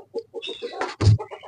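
Aseel rooster clucking close by in short, irregular bursts, with a louder, fuller cluck near the middle and scattered softer clucks around it.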